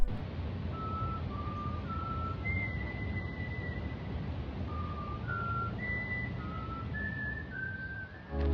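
Strangers in a video game whistle a melodic tune of short, steady tones stepping up and down in pitch, repeating a pattern over a constant low background hum, with no voices.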